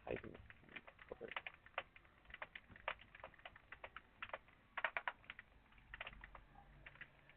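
Typing on a computer keyboard, with rapid, uneven clicks and key taps at close range, quiet and steady throughout with short bursts of faster strokes.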